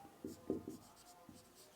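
Faint, close strokes of writing on a board during a physics lesson on optics come as a few short scratchy taps in a quiet room.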